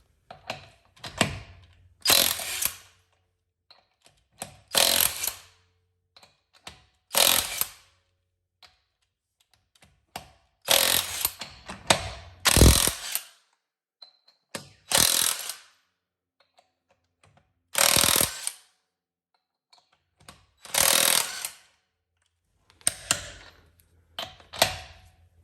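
DeWalt DCF889 half-inch cordless impact wrench and Ingersoll Rand W7000 impact wrench firing in turns, about ten loud, sharp hammering bursts of one to two seconds each, separated by short silences, with no talk.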